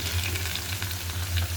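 Potatoes fry in hot oil with a continuous close sizzle and soft bubbling crackle, steady and moderately loud, with no voices over it.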